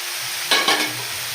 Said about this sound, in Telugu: టమాటాస్ వేసుకొని అందులో రుచికి సరిపడినంత సాల్ట్ కూడా వేసేసుకుంటున్నాను.